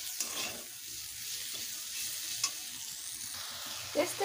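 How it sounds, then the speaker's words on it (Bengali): Pumpkin greens stir-fried with fried eggplant in a pan give a soft, steady sizzle, with occasional faint scrapes and clinks of stirring, fairly quiet and continuous. "নেড়ে চেড়ে ভালোভাবে কষে নেব।"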